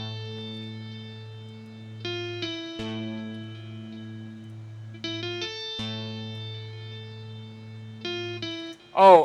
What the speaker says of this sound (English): If we was to play that piano dry, it would sound like this.